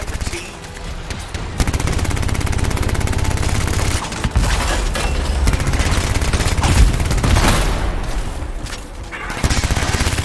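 Automated turrets fire sustained bursts of rapid gunfire in the sci-fi shooter Anthem, loud and close, with heavy booms and brief pauses between long volleys.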